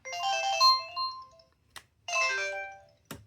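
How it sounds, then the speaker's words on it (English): A short synthesized flip tone plays on a Motorola T219 cell phone, two bright melodic chimes with harmonic notes, each about a second long, separated by brief clicks and gaps, close and clear with no talking. "when you play the flip tone on the T219, you can tell it's a different sound font"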